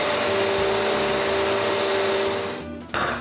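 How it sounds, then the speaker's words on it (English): Sander fitted with a soft interface pad smoothing the round ends of a turned wooden pestle, a loud steady whirring drone close by that cuts off near the end, followed by a short clatter. "Both round ends are sanded with a soft interface pad on my sander."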